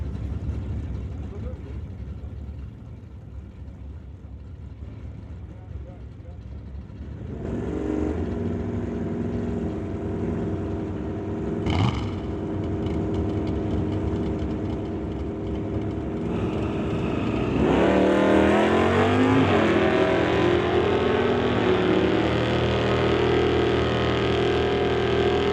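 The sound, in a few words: Chevrolet Malibu and GMC Jimmy drag racing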